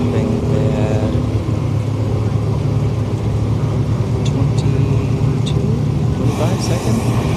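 A struggling Honda Accord idles and rumbles at a street-night drag race at Orlando Speed World, a loud low engine drone with shifting tones amid crowd and track noise, voices mixed in.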